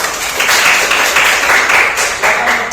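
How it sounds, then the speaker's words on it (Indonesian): A classroom of students applauds a group of student presenters, a dense, steady wash of clapping from many hands that stays fairly loud and even for the whole stretch, with no speech over it. "kita beri tepuk tangan untuk"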